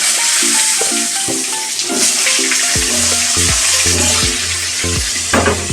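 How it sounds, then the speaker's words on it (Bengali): Potato pieces frying in hot oil with bay leaves and cumin seeds in a pan, a loud continuous sizzle with clinking stirring knocks against the pan throughout. "প্রথমে একটু আলুগুলো ভেজে নেব।"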